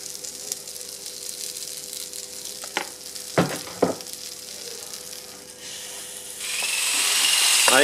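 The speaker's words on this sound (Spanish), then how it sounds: "Ahí Caro está batiendo una crema" Whisking cream for vegan oat waffles, a steady buzzing whir that rises and grows louder toward the end, with a few sharp clinks of utensils along the way.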